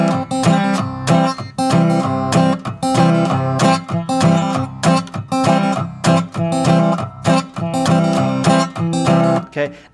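Acoustic guitar playing a hill country blues pattern, single notes woven into a steady, driving rhythm of aggressive strums, loud and close with no talking.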